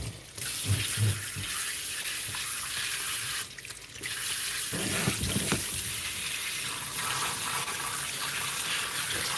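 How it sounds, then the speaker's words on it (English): Tap water runs steadily into a sink while redfish is cleaned, a continuous loud rushing stream with brief interruptions and clunks of handling. "let me shut the water off so you can actually hear me."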